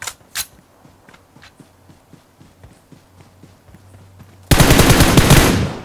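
Gunfire in BGMI: faint footsteps and scattered distant shots, then a sudden loud burst of rapid automatic fire close up.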